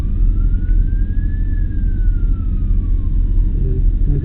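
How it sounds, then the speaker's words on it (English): A fire engine siren wails steadily, its pitch rising and then slowly falling, over a loud low rumble of engine and road noise. "Someone found the 801 siren."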